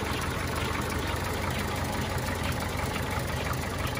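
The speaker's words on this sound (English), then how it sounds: "Literally 5 inches from the motor, so you can hear it." Engine of a 1937 Packard 1501 convertible idling up close, a steady, loud, even rumble with no talk over it.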